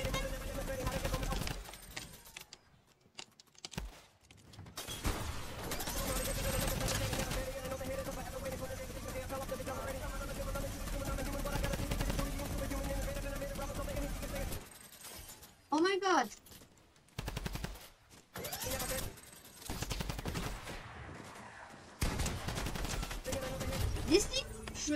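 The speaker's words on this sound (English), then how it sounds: "just in case we have our minigun" Minigun in the Fortnite video game spraying sustained rapid fire in dense bursts with gaps, loud and close, mixed with game effects and a voice talking over it.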